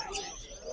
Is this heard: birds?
yes